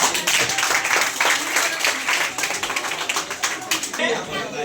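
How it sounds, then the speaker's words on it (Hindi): Audience clapping at a coaching class result and prize distribution ceremony, a burst of claps that keeps going while a voice talks over it, tapering toward the end. "ताली बजा दीजिए एक बार।"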